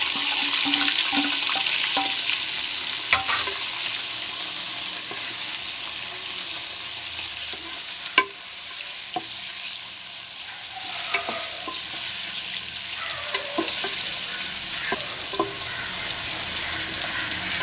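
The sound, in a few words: onions sautéing in oil with biryani masala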